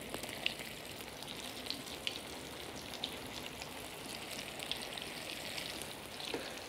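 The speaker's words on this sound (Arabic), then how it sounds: "ممكن مثلا ناخذ أصابع الكفتة عندي ونحطها في زيت غزير" Kofta fingers frying in deep oil, a steady crackling sizzle with scattered pops and spatters, close and continuous with no talk.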